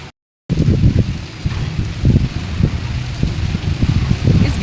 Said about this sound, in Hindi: बहुत तेज़ हवा चल रही है और हल्की हल्की फुहार हो रही है